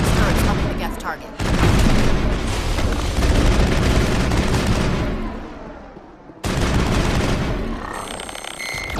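Sustained crossfire in the Mass Effect video game during an assault on Saren's base, a loud dense wash of gunfire and booms that drops away briefly near the end before resuming, with speech mixed in.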